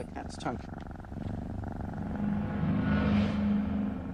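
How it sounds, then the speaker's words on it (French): A cat purrs in a steady low rumble, close and continuous, under a person talking throughout. "Et ces ronronnements,"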